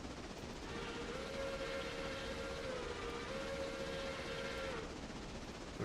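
A train horn in a railway simulator game sounds one long steady blast at a crossing, lasting about four seconds, with a brief dip partway through. It rises alone over a quiet rumble of the moving train.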